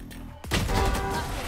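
Phantom rifle fire in the Valorant video game: a sharp burst of gunfire breaks a quieter moment and rattles on at close range, loud and dense.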